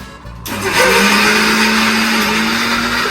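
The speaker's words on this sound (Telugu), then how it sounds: "వీడు అర్ధరాత్రి ఒంటి గంట మిక్సీ ఆన్ చేసాడు" A kitchen mixer grinder switches on and runs at a loud, steady whine with a low motor drone, starting after a brief quieter moment and continuing without voices.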